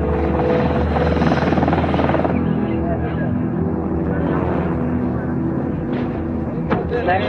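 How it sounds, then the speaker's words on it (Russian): A police helicopter drones steadily and loudly throughout, with its rotor and engine noise filling the scene and voices talking faintly underneath. "Полицейский вертолет может довести нас туда."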